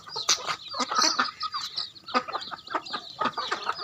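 Local black and white chickens squabble nearby, giving sharp squawks and rapid clucks in irregular bursts with brief pauses between, loud and close with no talking.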